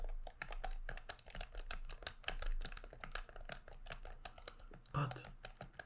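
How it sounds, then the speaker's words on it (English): Game controller triggers clicked in quick, irregular bursts, close and crisp though somewhat mushy, with a soft voice murmuring briefly among the clicks. "I find the click sounds of this controller slightly mushy."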